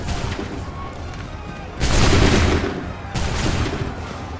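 Gunfire volley in Assassin's Creed 3, two loud broad bursts of musket fire that crash in and decay over a couple of seconds, over a busy battlefield din.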